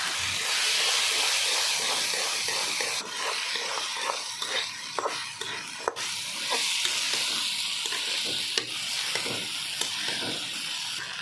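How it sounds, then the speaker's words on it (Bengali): Shrimp fries in a pan with previously fried dried fish and spices, a loud continuous sizzling hiss broken by repeated sharp spatula scrapes and stirring clicks, close up. "শুটকিগুলো ভাজার পরে দিয়ে দিচ্ছি চিংড়ি মাছগুলো।"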